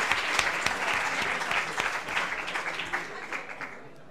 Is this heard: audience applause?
yes